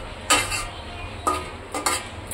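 Meat cooking in a pot at home in the evening is stirred with a spoon, giving three or four separate scraping clinks over a low, steady background hum.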